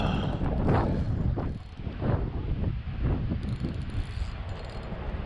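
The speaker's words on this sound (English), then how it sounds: "It's so windy out here." Gusty wind buffets the microphone outdoors on a fishing trip, rumbling in uneven surges with no talk, loud and close throughout.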